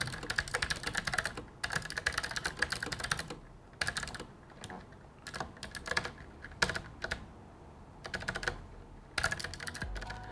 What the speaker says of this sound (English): This one comes with the Outemu blue switches, which are tactile and very clicky.